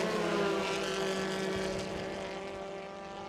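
Race cars run on track during an MRF Challenge race, a steady engine drone held at high revs. The note fades slowly as the pack moves away.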